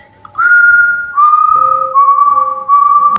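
A person whistles to imitate an eerie ghostly whistle heard while camping on a haunted island, with long sustained tones that slide between pitches, loud and close with no other sound.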